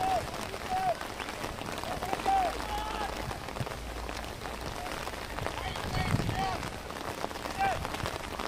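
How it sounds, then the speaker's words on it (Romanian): Rain falls steadily on an outdoor football match in Adjud, a constant hiss of drops spread across the whole stretch, with a commentator talking over it and faint whistle-like tones. "Aici la Ajud plouă în continuare"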